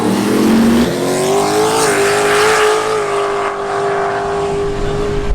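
Drag racing cars at Race Week 2022 in Kearney roaring down the strip, a loud sustained engine howl with a rising pitch that levels off as the cars accelerate away, steady and dense throughout.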